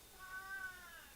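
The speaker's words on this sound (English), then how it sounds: "That's the cat's chiming in." A cat gives a single faint, drawn-out meow lasting about a second, quiet and somewhat distant, with no talk over it.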